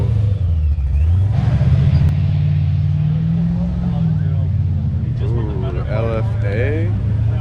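Car engine at a cars and coffee meet, a deep rumbling idle rising into a revving swell and easing back, close and loud, with people talking excitedly over it.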